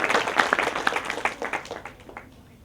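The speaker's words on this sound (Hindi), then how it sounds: "इनके लिए निश्चित तालियां बनती हैं।" Workshop audience applauding someone speaker, clear individual claps in a quick, uneven run that thins out and fades to quiet by the end.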